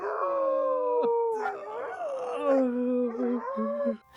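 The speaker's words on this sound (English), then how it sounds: "He whimpered again, louder this time, and took a cautious step toward the man." A police K9 dog whimpers and whines in long, wavering high-pitched tones that run almost continuously and sound close and fairly loud.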